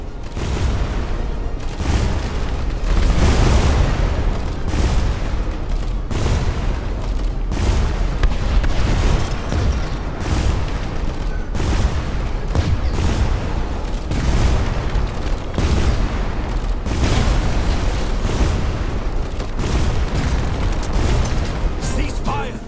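Continuous weapons fire rumbles through an Airship: Kingdoms Adrift battle, rapid repeated booms and pops stacking into a steady loud barrage with shouted voices mixed in.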